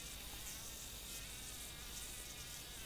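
Continuous insect buzzing from a fly or cockroach in the video game Cockroach Simulator, a steady faint drone over soft noise with no talk.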